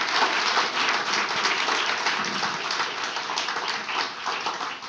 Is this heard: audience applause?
yes